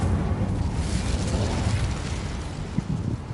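A fiery blast from the Incendio spell in the game Hogwarts Legacy, a roaring, rumbling burst of flame that holds a steady, dense whoosh for a few seconds.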